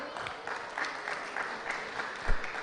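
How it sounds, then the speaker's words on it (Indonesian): Applause from an audience at a talk on heart disease risk for women nearing menopause, as a doctor is introduced; steady moderate clapping fills the whole stretch with one louder thump near the end. "Silakan tepuk tangan."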